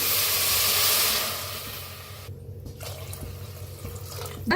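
Water poured into a pressure cooker holding oil, turmeric and sprouted moth beans, a steady close splash that fades after the first second into quieter trickling and clinks.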